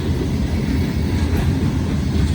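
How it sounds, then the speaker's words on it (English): A heavy freight train loaded with steel coils rolls past close by, a steady low rumble and roar for a couple of seconds with no break. "Steel coils train."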